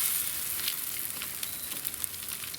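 Salmon patties frying in ghee on a hot griddle make a fairly quiet, steady hiss, broken by small spitting pops and crackles, with no one talking.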